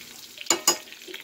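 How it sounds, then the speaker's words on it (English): Bacon frying in a pan on a homestead breakfast cook, a steady close sizzle with two sharp scraping or spatter bursts midway. "Cooking some bacon here,"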